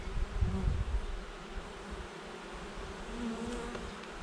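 A dense, continuous hum of honeybees buzzing inside a beehive fills the scene at close range, steady and moderately loud with no talking.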